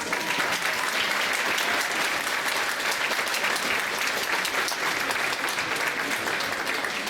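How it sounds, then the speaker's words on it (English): Audience at a high school honor society induction ceremony applauding teachers, a dense, loud, continuous round of clapping from a large crowd that holds steady throughout. "Clap, clap, clap."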